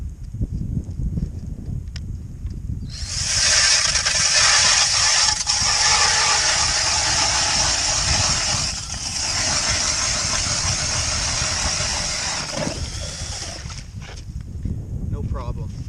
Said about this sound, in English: So I got my Clam auger. I'm going to show you how it works.